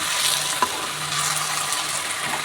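Chicken kosha frying in a pan as it is stirred, a steady close sizzle with a brief scrape of the spoon partway through, no voices.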